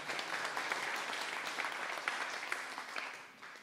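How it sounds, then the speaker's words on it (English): A church congregation applauds during a Sunday service, a steady wash of many hands clapping at a distance, fairly faint and continuous, tapering slightly at the end. "Give him a round of applause"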